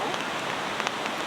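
Light drizzle patters on a riverside campsite after heavy rain, a soft, even hiss of drops with no voices for just over a second.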